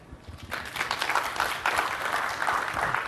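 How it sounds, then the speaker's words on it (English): Scattered, sparse applause from a conference audience at a C++ talk, a few hands clapping unevenly and fairly softly across a hall, starting after a brief quiet moment. "I started to hear a clap or two that were lonely"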